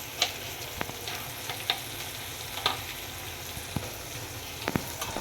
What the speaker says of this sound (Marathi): तर आपला कांदा भाजतोय.